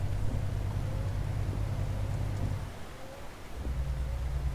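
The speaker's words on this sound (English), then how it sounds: "it's freaking raining like a bastard" Heavy rain in Euro Truck Simulator 2, a dense steady roar of rainfall over a low rumbling drone that dips briefly near the end, with no voices.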